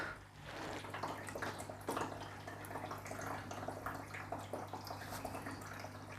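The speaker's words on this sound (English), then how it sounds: "And I've done it right because the inlet is taking in the water." Water trickles and gurgles as an OASE BioMaster Thermo 350 aquarium canister filter fills through its inlet, a continuous bubbling wash with small drips over a steady low hum.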